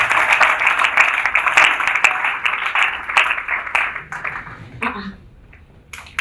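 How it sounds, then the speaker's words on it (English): A conference audience at an aviation careers event applauds steadily, dense clapping that thins out and fades toward the end, with faint voices mixed in. "Please let's put our hands together for him."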